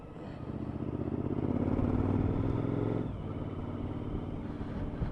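A Suzuki V-Strom 1000 motorcycle rides through back streets with an underinflated front tyre. The engine note swells, then eases and settles into a steady running drone, with no talk over it.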